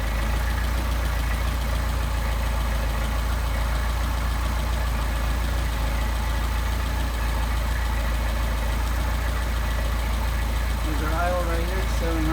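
A Mercedes 190SL engine with Solex carburetors idles steadily at around 700 rpm, a continuous low rumble heard close up; a voice speaks briefly near the end.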